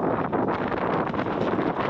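Strong gusty wind buffets the microphone beside a boat lock on a rainy day, a steady broadband roar with no gaps, loud and close throughout.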